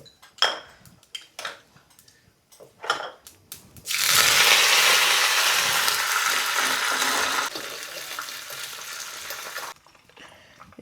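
Curry leaves dropped into hot oil in a home kitchen, erupting into a loud, crackling sizzle that holds for several seconds and then eases, after some light clinks of utensils.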